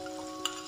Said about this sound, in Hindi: और इसको अब हम अच्छे से मिक्स करेंगे।